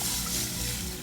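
Water is poured into a hot pot for Jamaican rice and peas, giving a steady, close rush and splash that fills the whole second without a break.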